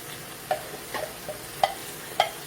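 Chopped onion softening in a pan over medium-high heat, with a few sparse spatula taps and scrapes above a low, steady sizzle, close by and quiet, no voices.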